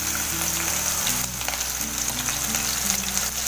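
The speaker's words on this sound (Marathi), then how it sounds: "तेल बघा चांगलं गरम झालंय त्यात मी टाकते मिरची" Green chillies dropped into well-heated oil, frying with a loud, close, continuous crackling sizzle that holds steady throughout.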